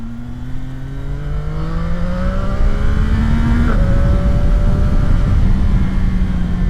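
A CFMOTO 675 SR-R motorcycle accelerates hard on twisty roads, its engine note climbing steadily and loudly, then dropping sharply with a quick upshift before pulling upward again.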